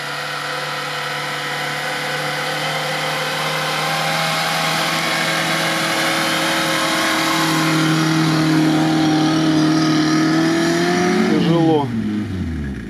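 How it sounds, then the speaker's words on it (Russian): A Lada Niva off-road vehicle labors under steady engine revs that climb slowly and then drop sharply near the end, loud and close, with a voice speaking now and then beneath the engine. "по звуку что-то серьезная машина Нива"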